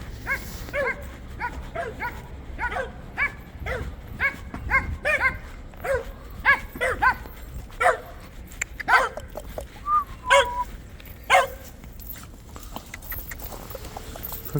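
Excited small dogs greet someone in winter with a long run of repeated barks and yips, close and fairly loud, broken by a few higher whimpering whines toward the end.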